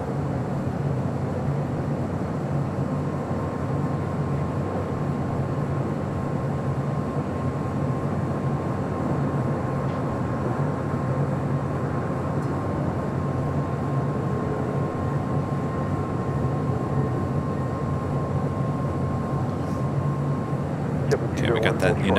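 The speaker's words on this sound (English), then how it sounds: "we got that United Dreamliner now rolling down 25 right" A United Dreamliner jet rolls down runway 25 right at LAX for takeoff, a steady broad engine roar holding throughout with a faint tonal whine, joined by a voice talking over it.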